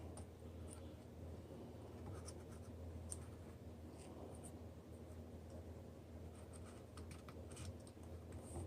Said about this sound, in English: I'm going to go ahead and draw that out on my horn.